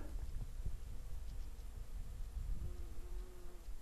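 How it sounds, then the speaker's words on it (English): Bees buzz among heather on a still hillside, a faint, steady insect drone close by with a brief rising hum near the end. "I don't know if you can hear the bees in the heather."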